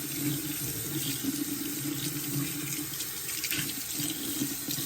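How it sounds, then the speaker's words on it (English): Super hot water runs steadily from a sink faucet, a continuous splashing hiss at close range with no talking. "Running super hot water through it."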